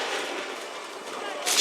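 A cannon and gunfire volley in Assassin's Creed 3 roars as a dense, continuous blast of noise, swelling into a louder burst at the end, with voices shouting over it.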